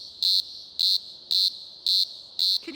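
A shrill, buzzing insect call pulses in five evenly spaced bursts, loud and steady, like a chorus of cicadas.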